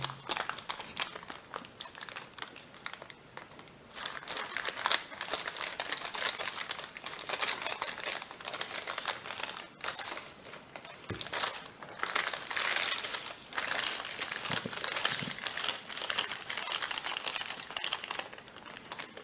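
Paper creased into an origami mountain fold while folding a dobsonfly model, with continuous crinkling and crumpling of the folded sheet, close and fairly steady, rising and falling in bursts throughout.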